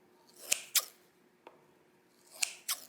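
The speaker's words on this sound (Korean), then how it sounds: "가위로 식빵의 윗면을 가감히 깊게 잘라주세요." Scissors snip deeply into the top of proofed, egg-washed butter bread dough, giving two quick crisp cuts, a faint tick, then two more cuts close by and alone.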